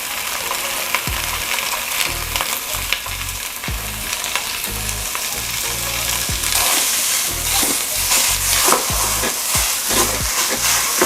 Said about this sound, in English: First, we will start to cook a pound of sausage. We'll scramble this up